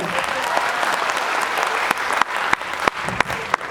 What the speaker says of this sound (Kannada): ಇನ್ನೊಂದ್ಸತಿ ಜೋರ ಚಪ್ಪಾಳೆ ತಗೊಳ್ಳಿ.